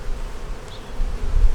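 Honey bees humming around an open double-deep eight-frame hive during an inspection, a dense, continuous low drone lasting only a moment, close by.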